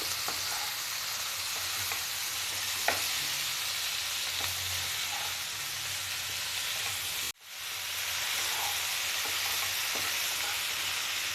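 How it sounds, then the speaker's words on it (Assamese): Masala frying with jackfruit and potatoes as it is stirred: a loud, continuous sizzle with scraping stir sounds and a brief cut-out partway through. "এতিয়া মিক্স কৰি দিম মছলাখিনি কঁঠাল আৰু আলুখিনিৰ লগত।"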